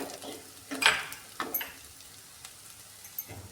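A spoon scrapes and clinks as spices are stirred into fish curry in a pan, leaving a few sharp knocks and soft scrapes over a faint, low sizzle, with quiet gaps in between.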